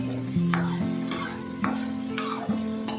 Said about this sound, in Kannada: ಚೆನ್ನಾಗಿ ಹೊಂದ್ಕೊಳ್ಳೋ ಹಾಗೆ ಮಸಾಲೆನ ಮಿಕ್ಸ್ ಮಾಡಿ